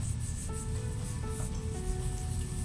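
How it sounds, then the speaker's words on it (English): A rice paddle rubbed over newsprint laid on printing paper for a watercolor monotype, giving a soft, steady, faint scuffing that runs continuously, with a few faint tonal hums in the background. "now I'm going to rub with the rice paddle"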